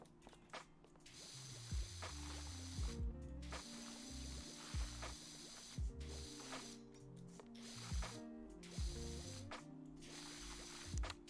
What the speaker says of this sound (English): Now we will get the wood cleaner and just try to hose down as much of this as possible.